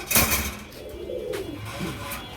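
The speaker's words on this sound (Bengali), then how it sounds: "এখান থেকে আপনার কিছু কবুতর দেখাই।" Pigeons coo softly in a few low, rolling calls, close by and faint, among kept pigeons in a loft collection.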